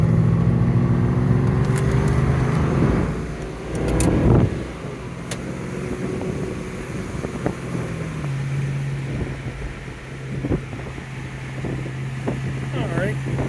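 A 1993 Ford Mustang convertible being driven and manually shifted into first gear: a steady engine drone with wind noise and a shift in engine tone partway through, with someone talking over it.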